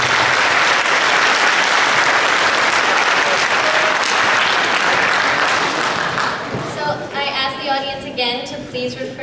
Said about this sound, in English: please refrain from applause just to save time today